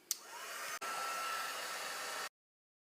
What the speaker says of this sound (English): I'm just going to heat emboss that, and I just want to make sure that my gun is really hot